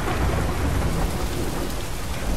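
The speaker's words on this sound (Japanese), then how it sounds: "雨がすごい。" Heavy rain pours steadily with rumbling thunder beneath it, a dense, constant storm wash from The Last of Us video game, loud and unbroken with no voices.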